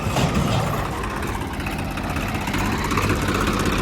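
A tractor engine runs steadily at close range with a rotavator attached, a loud, even diesel rumble with no change in pace.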